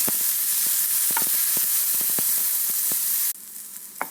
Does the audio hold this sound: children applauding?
no